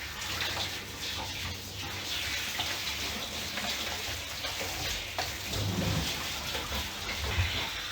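Running water from a grooming bath hose rinsing a Cocker Spaniel, a steady close hiss and splatter that swells slightly in places, with no clear talking.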